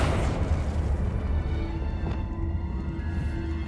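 A Confringo fire spell exploding in the wizarding game Hogwarts Legacy, a deep boom with a rumbling low tail under continuous game ambience, fairly loud and close.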